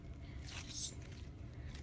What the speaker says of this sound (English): So you can hear it's very crunchy already.